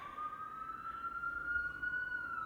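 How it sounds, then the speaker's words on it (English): Emergency vehicle sirens pass outside, a faint, steady wailing tone rising slowly in pitch over a soft rumble of background noise. "Actively listening to these sirens go by,"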